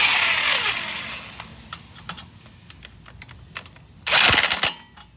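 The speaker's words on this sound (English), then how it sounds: "This is a Milwaukee impact socket gun." A Milwaukee impact socket gun on a Nissan Versa car wheel fires a loud whirring burst, then a pause with light clicks, then a second, louder rattling burst before it stops.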